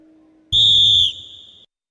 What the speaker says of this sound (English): the whistle goes off